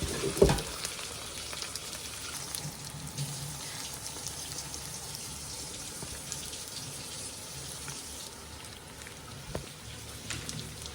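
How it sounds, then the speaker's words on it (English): A steady, hissing sizzle of water evaporating from a hot pan of frying gyoza, continuous and fairly quiet, with a few small pops and clatters. "we're gonna cook until extra water evaporate or till there's no water on the frying pan"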